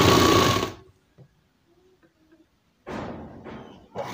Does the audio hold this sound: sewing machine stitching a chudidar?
yes